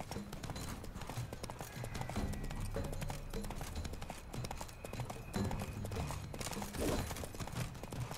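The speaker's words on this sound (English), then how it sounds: "This is just a fun little pony ride." Repeated hoof clip-clops keep a brisk, even rhythm for several seconds amid other noisy game sounds.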